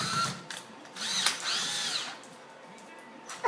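A power drill whirs in short bursts driving self-tapping Phillips head screws, its motor pitch rising and falling as it drives in, close up with brief pauses between.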